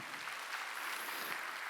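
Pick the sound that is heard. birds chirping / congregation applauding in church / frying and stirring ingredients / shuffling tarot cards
congregation applauding in church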